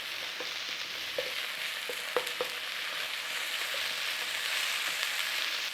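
Leeks softening and frying in a pan, a steady soft sizzle throughout with a few faint clicks and light stirring knocks, close and alone.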